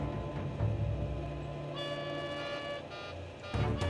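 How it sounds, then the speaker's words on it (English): A takeoff warning alarm sounds in an airliner cockpit during the takeoff roll, tonal repeating horn-like tones layered over engine and runway rumble, close and fairly loud, cutting in and out with brief gaps. "The sound of the alarm was loud."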